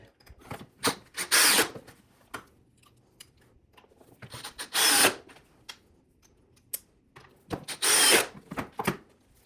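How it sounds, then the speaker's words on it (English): A power drill with a hex-head bit snugs down bolts on a wood workbench, three bursts of whirring driving with short taps and clicks between, close and loud with quiet gaps. "I'll snug them down with the hex head."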